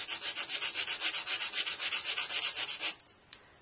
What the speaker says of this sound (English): you take your sandpaper